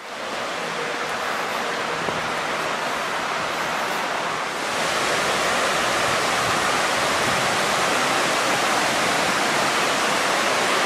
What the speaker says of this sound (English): I can hear the little Qualicum River off on my right